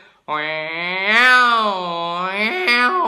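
A human voice imitates a tomcat fighting another tomcat in the street, a long, wavering yowl rising and falling in a drawn-out moan for about three seconds.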